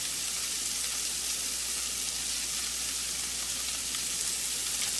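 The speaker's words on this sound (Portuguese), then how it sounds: "Já estou entrando com a sobrecoxa. Vou deixar ela dourar um pouquinho também." Chicken thighs browning in a frying pan while cooking a Spanish rice dish, giving a steady, soft, even sizzle throughout with no other sounds.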